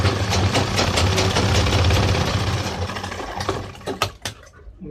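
Sewing machine stitching the pocket on a pair of trousers, a loud fast motor chatter that runs continuously and then slows into a few separate clacks as it stops.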